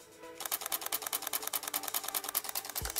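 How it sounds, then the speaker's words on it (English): Rapid continuous burst of a Canon EOS 80D DSLR shutter, about seven crisp mechanical clicks per second firing close and steady for over two seconds, then stopping. "This camera can fire up to 7 shots per second and it sounds like this."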